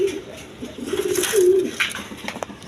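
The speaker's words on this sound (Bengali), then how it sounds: "এখানে এক পেয়ার পাঞ্জা কবুতর আছে দেখেন" A pair of Panja pigeons coo in a short, rising-and-falling call at close range, repeated soft throaty notes over faint background noise.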